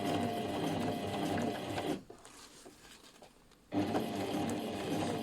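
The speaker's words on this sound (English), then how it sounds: "So I'm going to start that off by stitching, reverse stitching" A sewing machine runs loudly and steadily while stitching a washbag lining, stops for under two seconds, then starts again in a reverse stitch, with its needle action and motor hum heard close up.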